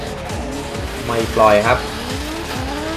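Race cars lap a track, their engines revving in rising and falling sweeps with a short tire squeal as they corner, moderately close. An excited commentator talks over them throughout.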